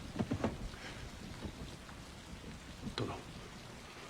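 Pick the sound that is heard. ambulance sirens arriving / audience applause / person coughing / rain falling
rain falling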